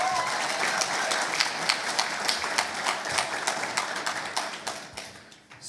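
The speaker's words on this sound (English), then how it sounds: "So give Chris a round of applause." An audience applauds a storyteller with a steady patter of many hands, fairly loud and dense at first, then thinning and fading toward the end.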